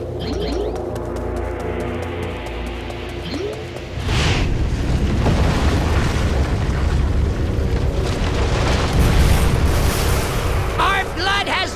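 Explosive barrels blowing up in Fist of the North Star: Ken's Rage, a loud burst followed by a sustained roaring rumble and debris crackle over dense game noise, with shouted voices and talk layered on top.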